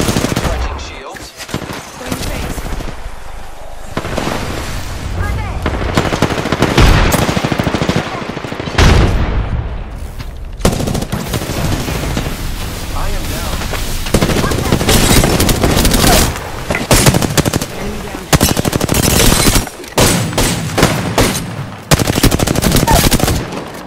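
Apex Legends combat: rapid automatic gunfire and repeated single shots crackle loudly and almost nonstop, with short lulls, mixed with game effects and players talking over the shooting.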